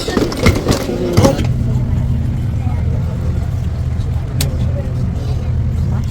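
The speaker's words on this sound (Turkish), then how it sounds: "Otobüs güzel değil mi Aliye" A bus rides through Italy. Its low engine rumble holds steady throughout, with people talking close by at the start, then the rumble continues alone.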